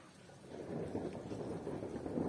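Rain falls outdoors in the Lviv region, a steady close wash with a low rumble of distant thunder swelling beneath it, and no voices.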